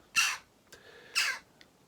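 A trapped jackdaw gives two harsh, raspy squawks about a second apart, moderately close and with faint calls between them.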